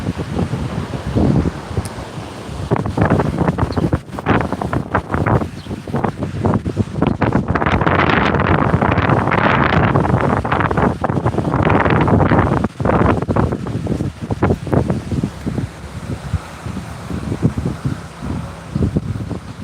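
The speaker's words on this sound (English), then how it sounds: "The wind is going crazy." Strong, gusty wind roars and buffets the microphone continuously, loud and close, with no break in the blowing.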